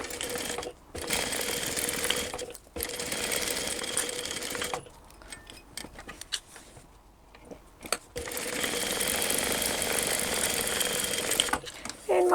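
A sewing machine stitches a seam through a foam or fleece switch case, a steady close mechanical whir broken by several brief pauses and a longer stretch of slower, uneven running before it resumes at full speed.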